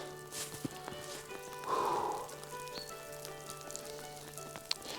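Faint, steady patter of rain falling at a snowy mountain camp in freezing cold, a soft continuous hiss with a brief louder swell of drops midway and occasional sharp ticks.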